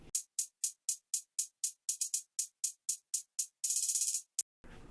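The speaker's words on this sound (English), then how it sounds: "So we have the 420 hi-hat loop 144 clap 3 from Splice." An unprocessed trap loop from Splice at 144 BPM: crisp, bright hi-hat ticks in a steady pattern, punctuated by a short buzzing roll and a final clap, with nothing underneath.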